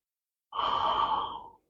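A single deep, breathy exhale during a core yoga exercise, close and steady for about a second, starting abruptly and fading out, with no talk.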